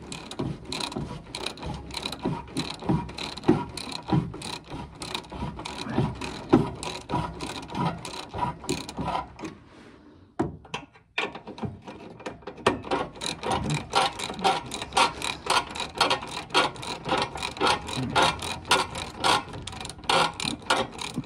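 A ratchet clicks in quick, close bursts while tightening the exhaust manifold on a Mazda MX5 NC Miata. The rapid clicking goes quiet briefly partway through, then resumes.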